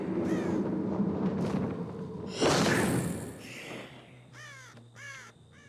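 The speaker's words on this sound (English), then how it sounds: "Like the crows." Crows caw in the Dead by Daylight video game, several harsh calls with a louder burst midway, then three or four shorter caws near the end against game ambience.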